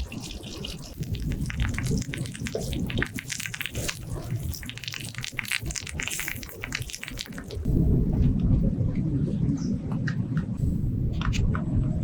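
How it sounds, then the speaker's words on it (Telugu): Heavy rain pours outdoors around an open-air spot where pomfret fish is being fried, with thunder rumbling through it; the steady downpour grows louder and denser partway through, and no one speaks. "మొత్తం వర్షం పడుతుంది చుట్టూ మేము ఉన్న దగ్గర అయితే."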